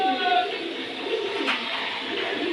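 A pigeon at a pigeon seller's coop gives soft, low cooing calls close by, with someone talking over them.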